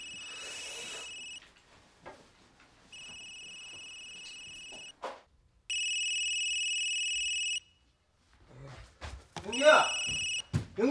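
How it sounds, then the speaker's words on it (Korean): A mobile phone rings in a Korean sitcom scene, sounding in several separate bursts of a steady electronic tone, with short gaps and people talking nearby. "핸드폰 왔네?"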